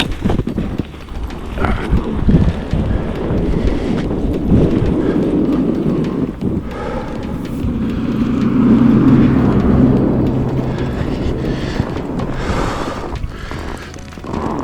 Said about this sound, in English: Alright, here comes the car.